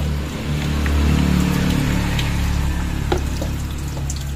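Water pours steadily and gurgles as it fills a Toyota car radiator during a flush, a continuous splashing flow close by.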